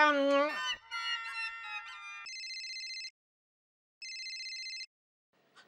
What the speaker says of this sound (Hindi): जेठा जी प्लीज फोन उठाइए।